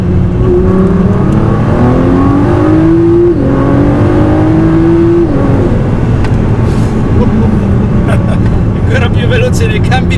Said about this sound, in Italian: E dietro di noi abbiamo un motore 3005 V6.